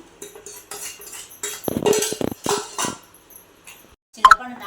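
A stone mortar pounding dried red chilli and peanut chutney: irregular heavy thuds and grinding strokes, then a sharp clink of stone near the end, close and fairly loud, with no talk.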